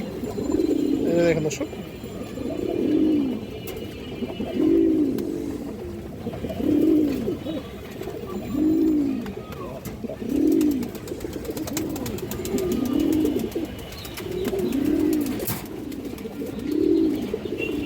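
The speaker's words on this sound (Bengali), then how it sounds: "লাইট কালারের সবজি নেওয়ার কবুতর আছে" Light-coloured Sabji Neowar pigeons coo up close in a loud, regular series of about eight rolling calls evenly spaced a couple of seconds apart. Someone speaks briefly between the calls.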